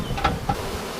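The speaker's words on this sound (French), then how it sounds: "elles vont battre des ailes pour appeler les autres, et notamment la reine si jamais elle n'est pas dans le paquet." A swarm of honeybees beats its wings near a small hive box at the foot of a tree, a close, steady buzzing drone with a couple of louder passes as bees fly by.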